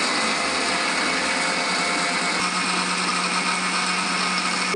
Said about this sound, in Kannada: ಇದೆಲ್ಲ ಹಾಕೊಂಡಿದ್ದೀವಿ ಮಿಕ್ಸಿಗೆ ಹಾಕೊತೀನಿ ಇವಾಗ